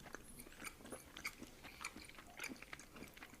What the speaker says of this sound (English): I be chewing.